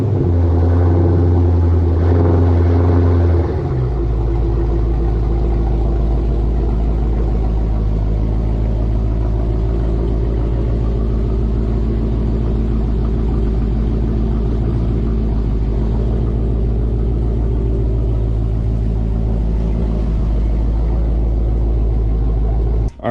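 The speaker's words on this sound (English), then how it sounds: "get the car moved over, get y'all a little cold start action" Dodge Charger Scat Pack Widebody V8 cold start on a chilly morning, a brief starter burst followed by a loud, deep, steady rumbling high idle close by, no talking.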